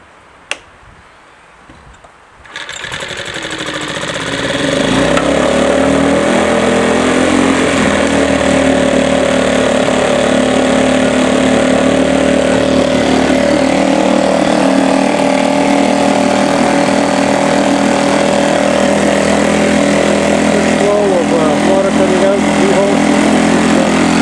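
A 2015 Parsun 2.6 outboard motor is pulled to start after a few quiet clicks, then catches and runs at a steady, fairly high buzzing idle close by for the rest of the time, with a voice speaking briefly over it.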